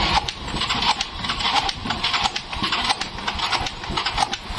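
An automatic scooter with lost compression is cranked on its electric starter, giving a continuous, loud, rough, rhythmically pulsing churn close by that never catches into a running engine.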